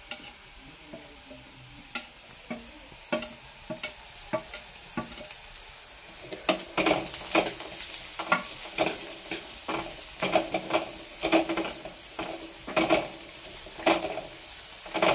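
Garlic frying in a pan for a home-style borsuri dal: a steady sizzle under repeated scraping taps of a spoon stirring against the metal. The stirring grows busier and louder partway through, close and with no talking.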